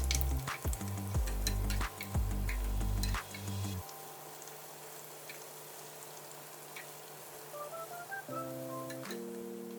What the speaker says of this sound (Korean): 숟가락으로 반죽을 입혀서 하나씩 떠서 넣고 골고루 뒤집으면서 색깔을 내줬다